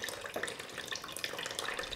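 Water trickles and drips out of soaked Seramis clay granules, a continuous light splashing and dribbling with scattered individual drops, close and fairly quiet.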